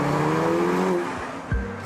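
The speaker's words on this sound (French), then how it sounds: "Ils ont beaucoup travaillé sur le collecteur d'échappement pour qu'elle produise le son d'une véritable Ferrari." A Ferrari California with a turbocharged engine, driven with the roof down, gives a loud, steady exhaust drone with a brief shift in pitch near the end.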